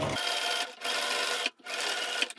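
A sewing machine stitches a quarter-inch seam across a fabric face mask, a close, steady mechanical whir running in two bursts with a short pause between.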